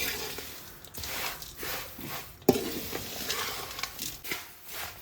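Poha is stirred in oil with salt and powdered sugar, a scraping, rustling stir in a pan with a light sizzle, rising and falling in strokes and one sharper knock of the spoon partway through.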